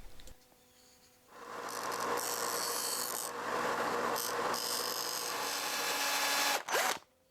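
A small drill bores eye sockets into a carved wooden eel lure, a close, gritty whirring rasp that starts after a quiet moment, runs steadily with a brief dip midway, then cuts off with a short final burst.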